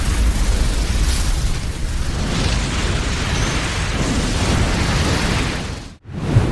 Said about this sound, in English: this involved a nuclear bomb